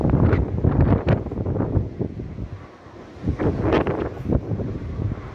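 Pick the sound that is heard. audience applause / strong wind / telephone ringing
strong wind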